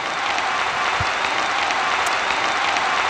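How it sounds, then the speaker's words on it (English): An awards-ceremony audience at a conference applauds the Audience Award winner with dense, steady clapping throughout, close and even. "the applause"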